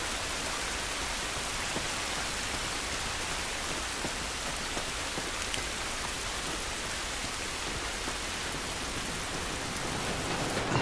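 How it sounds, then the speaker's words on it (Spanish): Steady rain pours down in The Last of Us video game, a dense, even hiss that holds at the same level throughout with scattered drop patters and no voices. "Esta lluvia no nos ayudará."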